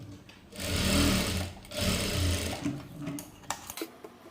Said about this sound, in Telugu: ఈ విధంగా కుట్టేసేయండి